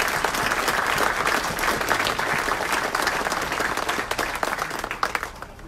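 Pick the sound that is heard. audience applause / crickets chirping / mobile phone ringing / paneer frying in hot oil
audience applause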